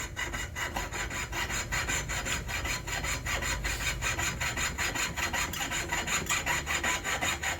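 A hand saw cutting through wood for a square frame, steady back-and-forth strokes at a quick, even rhythm, close and fairly loud, with no voices.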